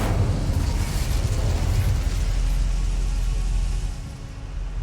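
An Incendio fire spell is cast in Hogwarts Legacy, a loud roaring whoosh of flame that bursts forth and holds steady for a few seconds before fading slightly.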